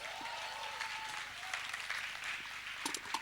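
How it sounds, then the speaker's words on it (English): An audience at a Bollywood music concert claps steadily and densely for a few seconds, a full, sustained wash of applause with a faint tone underneath. "I think that genius deserved a bigger round of applause."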